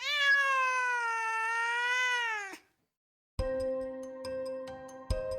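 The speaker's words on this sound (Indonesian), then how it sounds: "Membuat Pluto mengeong keras." A cat lets out a long, loud, drawn-out meow, then after a brief pause a jingling, clanking sound with a ringing tone follows.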